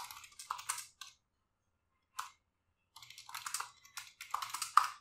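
Short bursts of close, quiet computer keyboard typing as a file name is entered, quick clicky keystrokes separated by silent pauses.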